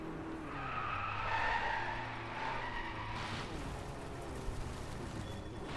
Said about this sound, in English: Okay, we got a drift challenge here.